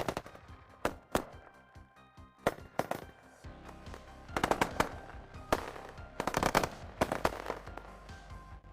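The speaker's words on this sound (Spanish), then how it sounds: "El estruendo de los disparos rodeaba la base." Gunfire from rebel fighters storming a military base in Mali, with sharp single shots and rapid automatic bursts cracking loudly in irregular clusters, some echoing, with no speech.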